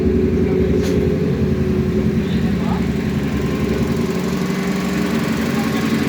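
Ford RS 2000 race car running at the Nogaro circuit, its engine a steady, loud low drone throughout with a faint mid-pitched whine passing through, no clear approach or fade.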